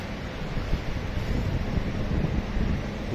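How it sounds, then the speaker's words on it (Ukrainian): Sea waves breaking on the shore under steady wind, a constant rushing wash with low rumbling surges and wind buffeting the microphone, heard alone without talk. "Ви просили море. Ось воно є в мене тут."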